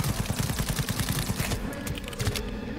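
Rapid bursts of gunfire from the video game Cyberpunk 2077, loud and close, rattling in quick repeated shots before thinning out and ending.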